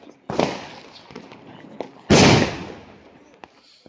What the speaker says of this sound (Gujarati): પેલો રોકેટ ફોડશે